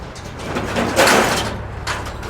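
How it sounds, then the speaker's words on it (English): A large metal bay door at a filming location opening with a broad rumbling, scraping rush that swells in the middle and then steadies, fairly loud with no talk. "Before they open up the second door"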